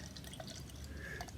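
Kyoto Brewing French red IPA being poured, a soft trickling and dripping of beer into a glass, quiet and close with no talk over it.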